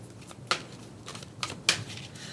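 Psychic Tarot Oracle cards are shuffled by hand in a quiet room: soft papery riffling with a few sharp snaps of cards knocking together, close and fairly faint.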